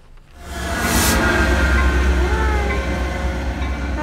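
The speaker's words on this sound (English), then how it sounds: "Hubby used to take that train." Commuter train passes close by, a loud sustained rumble and roar swelling in after a quiet start and holding steady with a brief higher screech early on.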